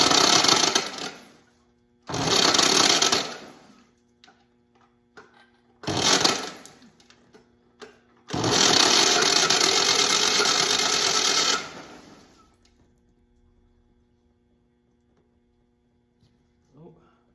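A WWII Jeep engine, about 83 years old, cranks and turns over in several bursts of rough mechanical whirring separated by pauses, with one longer run of a few seconds, close and fairly loud.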